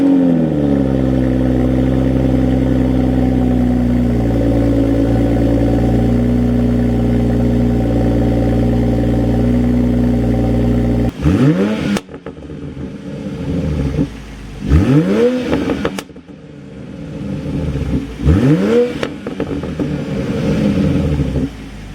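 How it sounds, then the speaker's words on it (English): A Toyota Supra MKV rumbles through a steady cold-start idle for about eleven seconds, then sport mode brings several sharp, loud revs that rise and fall, close by with no talking. "I'll cut in some cold start and some sport mode revving as well,"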